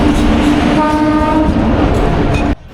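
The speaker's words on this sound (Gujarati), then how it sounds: "આ આવી ગઈ આપણી ટ્રેન" A train pulls into Ramdevra railway station in Rajasthan, loud and close, with a sustained horn blast over rumbling wheels, ending abruptly.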